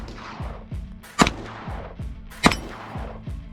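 Pistol shots from a handgun fitted with a Radian Ramjet compensator, two sharp loud cracks about a second apart, each with a short ringing tail, heard outdoors at a range with faint background noise between.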